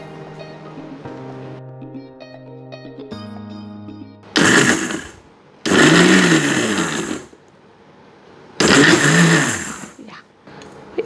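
A mixer grinder pulses kunafa dough with sugar in three loud, harsh bursts of about a second each, separated by pauses, following a quieter stretch of soft background music.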